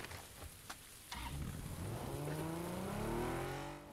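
Car engine in PUBG revving up and accelerating, its pitch climbing steadily over a few seconds, with a couple of sharp clicks beforehand; fairly quiet overall and no talk over it.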